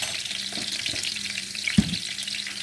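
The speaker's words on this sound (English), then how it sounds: "Let's give it a minute to fry." Food fries quietly in a pan with a low continuous sizzle, broken by a couple of soft knocks and one sharper clack near the end, with no talking.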